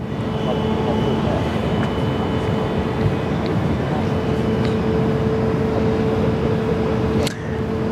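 An airliner on its takeoff run at Sydney Airport makes a loud, steady jet roar that holds for the whole stretch, then eases slightly near the end.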